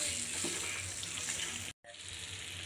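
Masala and green peas fry in a pan with a constant soft hiss and crackle, a faint stirring sound near the start, and a brief gap of near silence late in the clip before the sizzle resumes.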